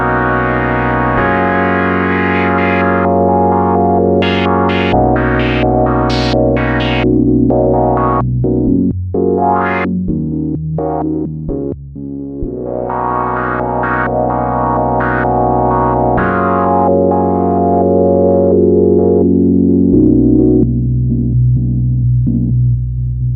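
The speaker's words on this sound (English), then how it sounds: "I'm going to go ahead and boost the delay so it slowly comes in." A Cherry Audio PolyMode Moog-style synth plays a loud, sustained melodic line of held chords and shifting notes, with delay modulation gradually swelling in and adding echoing, wavering repeats throughout.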